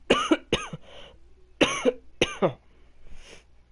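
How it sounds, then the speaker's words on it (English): A person coughs repeatedly in sharp, close bursts, two quick coughs, a pause, then two more followed by a softer breathy clearing, with no talk. "coughing my head off."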